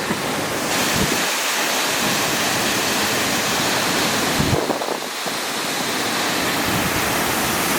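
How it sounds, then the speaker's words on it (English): A constant loud rush of falling water fills the scene, a broad roar with gusts of wind buffeting the microphone now and then. "There was another waterfall which is somehow bigger than the last one."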